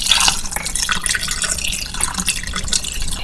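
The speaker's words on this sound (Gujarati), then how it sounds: "આ બધું ડૂબે એટલું આપણે પાણી લઈશું." Water poured into a pot over chicken pieces, cinnamon stick, bay leaves, salt and turmeric for lemon chicken shorba; a loud, close splashing and trickling stream runs throughout without speech.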